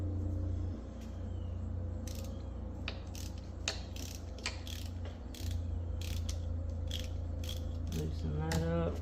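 A ratchet clicks in short, uneven bursts while loosening an alternator bolt on a 2013 Hyundai Elantra, close and fairly quiet over a low background rumble, with someone speaking briefly near the end.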